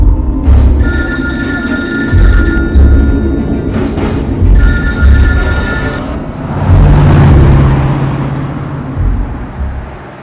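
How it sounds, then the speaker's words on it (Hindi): A telephone bell rings loudly in two long bursts with a pause between them, then gives way to a rumble that sounds like a passing car. "फोन उठाओ।"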